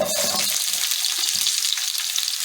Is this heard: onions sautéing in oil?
yes